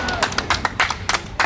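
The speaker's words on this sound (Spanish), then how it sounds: "Un aplauso para Nestora." A protest crowd outside the Mexican consulate in Houston, Texas claps briefly, with a handful of sharp, scattered claps in an uneven rhythm.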